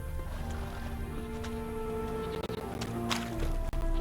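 A horse in The Witcher 3 clip-clops and gives a short whinny over a low droning game background, with a few sharp hoof or impact knocks near the end.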